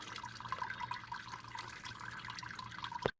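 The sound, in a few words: coolant draining from Jaguar XF radiator into bucket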